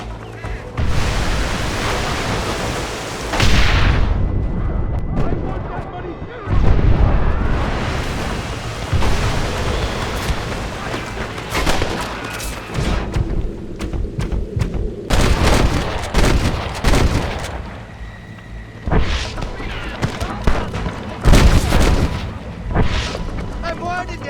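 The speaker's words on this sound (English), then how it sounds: "They're shooting down on us!" Gunfire from the top of a cliff during the Fort Mercer assault in Red Dead Redemption, heavy repeated shots and booming blasts spread across the scene, loud and close, with shouted voices in between.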